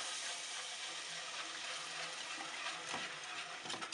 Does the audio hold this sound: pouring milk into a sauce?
yes